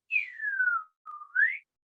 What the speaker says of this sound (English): you know that little whistle that goes